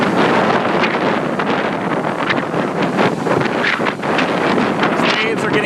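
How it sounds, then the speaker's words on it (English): Strong wind roars and buffets the microphone on a beach on a windy day as large waves crash and wash in continuously, loud and close throughout. "These waves are getting bigger."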